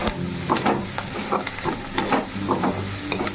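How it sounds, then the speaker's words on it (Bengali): Bora fritters frying in a pan and being stirred, with a continuous sizzle broken by regular scraping strokes roughly every half second, close and fairly loud. "এটা হয়ে গেছে নেড়ে চেড়ে নামিয়ে দেবো এখন"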